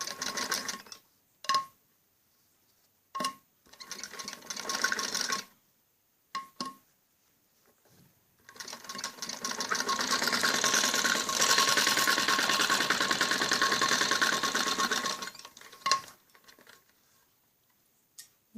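A sewing machine stitches piping onto a kameez back neck in short starts and stops, then runs in one long steady whirring stretch before a few final brief bursts, close up.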